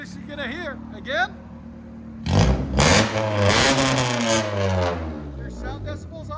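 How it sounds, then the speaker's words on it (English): Loud revving from a 1999 Honda Civic with headers and straight-pipe exhaust follows a stretch of talking, the engine note climbing in repeated bursts and then holding at high volume before easing off. "It's one of the loudest Civics you're gonna hear."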